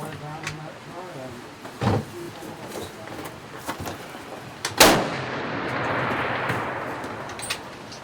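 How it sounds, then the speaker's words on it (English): A single loud gunshot at an outdoor Kentucky shooting competition rings out near the middle, followed by a decaying rumble, with a few fainter bangs and some talk earlier on. "Steve Bradley just shot."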